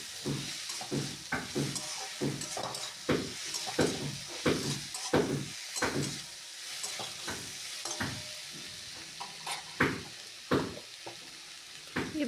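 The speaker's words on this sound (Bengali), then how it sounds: "এভাবেই কিছুক্ষণ পেঁয়াজ টমেটোর সাথে আলু বেগুনকে একটু ভালো মতো কষিয়ে নেব" Potato and eggplant pieces stir-fry with onion and tomato in a pan, giving a constant close sizzle with many rhythmic scraping strokes of a spatula spread evenly across the whole stretch.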